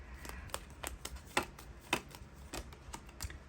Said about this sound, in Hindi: अब निकालते हैं कुछ कार्ड्स